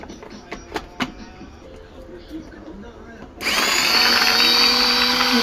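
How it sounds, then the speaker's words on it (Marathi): An electric food chopper whirs loudly and steadily as it chops coriander and green chillies, starting abruptly after a few soft knocks and clatters. "कोथिंबीर बघा किती चॉप होऊन जातो"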